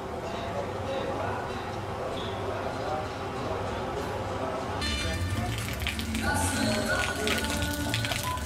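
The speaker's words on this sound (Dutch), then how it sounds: "We zijn in de regen." Steady rain falls in Akumal, Mexico, a dense continuous hiss of drops on surfaces throughout, growing slightly brighter and busier partway through, with faint voices in the background.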